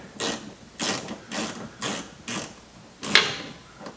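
A ratchet clicks in short bursts while turning a bolt during bumper removal on a 2010-2013 Camaro, six evenly spaced close ratcheting strokes separated by brief quiet gaps.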